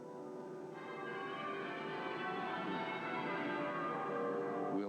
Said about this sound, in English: from this church with its muffled bells